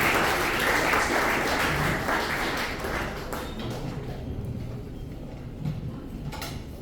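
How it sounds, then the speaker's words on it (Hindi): Audience of parents and students clapping at a school honours event, a broad wash of applause that starts loud and thins out and fades over several seconds. "ताली बजाएं"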